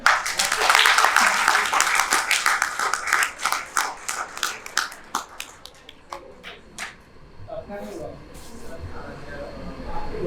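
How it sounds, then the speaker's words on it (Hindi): Hindi-speaking audience at a New Delhi event clapping together, loud quick claps that thin out and scatter into sparse single claps, then fade under a voice that resumes speaking. "तालियां बजाइए।"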